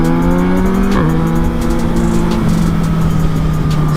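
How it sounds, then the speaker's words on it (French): A motorcycle on the autobahn roars loudly and close, its engine pitch stepping down through gear changes as it cruises with a steady exhaust drone and wind rush. "il a purement le bruit de la moto avec l'échappement"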